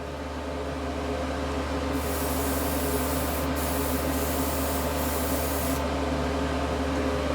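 Water sprayed onto a model being wetted down for rust weathering, a steady hissing mist in bursts from about two to six seconds over a constant background hum, close and fairly loud.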